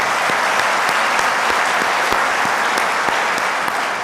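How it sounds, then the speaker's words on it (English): Sustained applause fills a convention hall at a bowling association's annual meeting, dense steady clapping from a large audience with no speech over it. "give those two a big round of applause"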